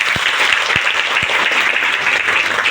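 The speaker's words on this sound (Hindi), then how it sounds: "ताली बजाओ दीदी।" Women applaud together at a community cluster meeting, a dense, even round of clapping sustained throughout, with a few low thumps underneath.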